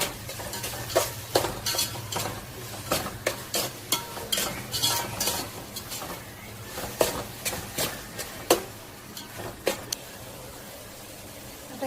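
Finely chopped tomatoes are sautéed in a pan, with a utensil scraping and clinking in quick, irregular strokes over a soft, steady sizzle.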